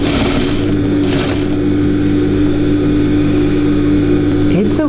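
A sewing machine stitches denim along a quarter-inch seam, its motor giving a loud, steady hum that runs the whole time without a break.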